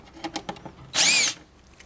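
A power drill whirs in one steady burst of about a third of a second, backing screws out of a Roll-N-Vac unit during a motor replacement, with soft handling clicks and knocks before it.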